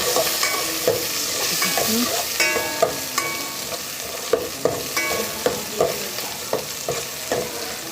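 Onion frying in a pan and being stirred, a loud continuous sizzle broken by regular scraping strokes of a spoon roughly every half second, close and with no voices.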